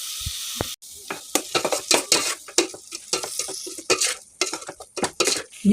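Sizzling and frying of chopped tomato in a pan with turmeric for home-style rasam, with repeated stirring scrapes and clinks of a spoon against the pot in an uneven rhythm, close up and with no talk.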